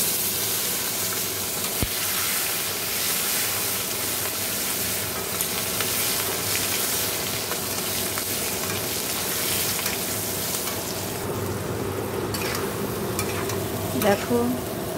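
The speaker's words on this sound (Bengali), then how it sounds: "শুকনো লঙ্কা, তেজপাতা ফোড়ন দিয়ে দিয়েছি।" Cumin, dried red chilli and bay leaf tempering in hot oil for a Bengali home meal, a continuous crackling sizzle with occasional sharper pops and a faint stir near the end.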